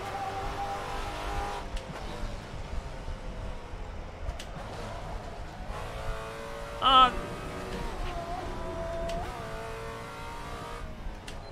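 Race car engine in the sim racing game Assetto Corsa revving and shifting through gears, with rising and falling pitch, a brief tire-squeal spike near the middle, and faint speech underneath.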